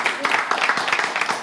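Audience applause in a television game show studio, a brief burst of dense, even clapping from a crowd, with voices mixed in.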